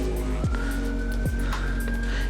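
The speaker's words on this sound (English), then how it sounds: "Oh, there's a siren." A siren passes outside, heard indoors as a sweeping wail over a steady low background rumble, moderately loud and unaccompanied by speech.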